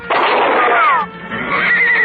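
A horse whinnies loudly and close as it bolts, a radio-drama sound effect: one long, shrill, wavering neigh that dips briefly and then rises again into a second, quivering cry.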